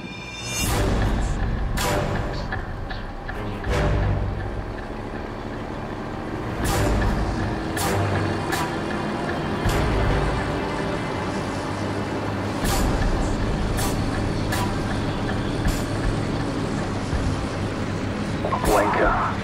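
Enemy military convoy trucks in Call of Duty 4 rumble along with heavy engine drone, hissing air brakes and repeated whooshing passes, loud and continuous with voices over the radio.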